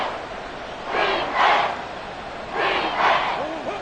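A football stadium crowd swells into loud cheering in two broad surges, rising and falling like roaring waves of voices during a tense third-down play.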